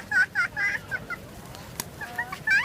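Several birds squawk and cluck in rapid, repeated bursts close by, clustering at the start and again near the end, with a sharp click midway through.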